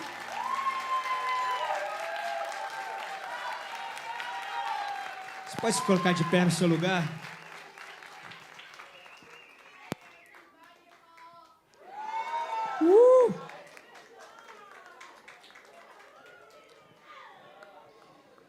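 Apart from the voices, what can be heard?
church congregation applauding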